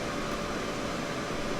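A computer running loudly, its fan giving a steady, even whoosh of broadband air noise that never changes, with no talk over it.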